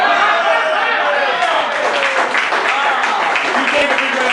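A corporate event crowd at a comedy mind-reading act breaks into loud applause mixed with excited voices and chatter, the clapping thickening after the first moments and staying close and full.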